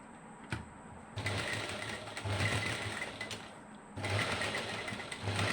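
Sewing machine stitching a top, its steady mechanical whir running in close bursts with a brief pause near the start and a short dip before resuming.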